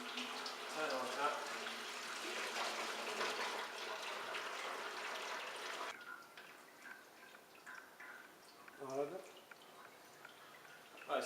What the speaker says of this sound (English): What we're going to do now is drain it into the bag ready for pressing.